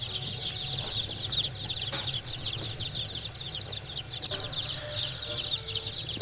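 Day-old Lohmann Brown chicks chirp continuously in rapid high peeps over a low steady hum, fairly close and moderately loud.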